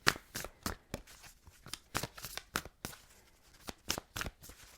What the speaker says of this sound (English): 2 more shuffles, please.